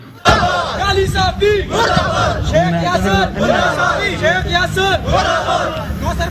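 Protesters outside the National Press Club in Islamabad chant slogans together, a loud rhythmic crowd of raised voices in repeated call-like bursts that continue steadily throughout.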